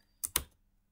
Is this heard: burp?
no